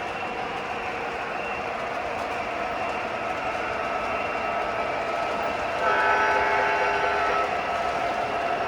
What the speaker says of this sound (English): You can see those MTH Premier engines handle the brake nice, pulling that load.